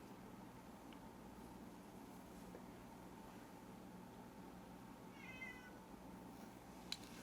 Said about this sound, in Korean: 고양이가 들어온다네.